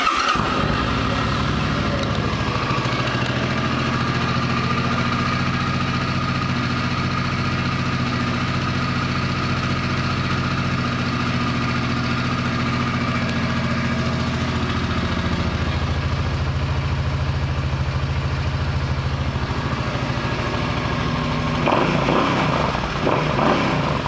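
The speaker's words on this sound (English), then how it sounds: "This 2005 Suzuki C50 Boulevard is a pre-owned motorcycle" A 2005 Suzuki C50 Boulevard motorcycle idles close by, its engine a steady low rumble with a constant vibrating hum that holds evenly for over twenty seconds before a brief rise near the end.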